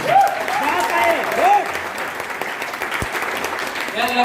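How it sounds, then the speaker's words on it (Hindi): An audience claps for Satyendra sir at a Phytocell Life event, sustained hall applause with cheering and whistles riding over it. "सत्येंद्र सर के लिए एक बार फिर से ताली दो"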